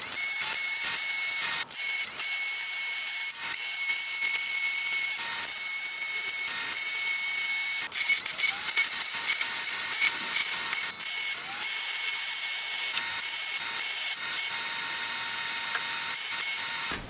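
An angle grinder grinds down a weld on a rusty Jeep Wrangler YJ front frame rail, giving a loud, high, harsh whine that runs continuously with brief dips as pressure changes.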